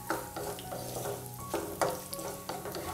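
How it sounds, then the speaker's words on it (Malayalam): Cashews frying on medium flame while being stirred in a pan, a light sizzle broken by rhythmic scraping strokes about every half second, close and clear. "ഒരു മീഡിയം ഫ്ലെയിമിൽ വെച്ചിട്ട് ലൈറ്റായിട്ടുള്ളൊരു ഗോൾഡൻ കളർ വരുന്നവരെ മാത്രം ഒന്ന് വറുത്ത് കൊടുക്കാം."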